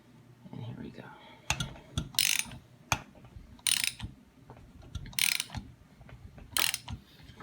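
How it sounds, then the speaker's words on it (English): Ratchet clicking while an AK rifle barrel is removed, bursts of rapid metallic clicks repeating every second or so with short pauses between, close and fairly loud, with faint whispery breaths underneath. "If you can turn a ratchet, you can get this barrel off."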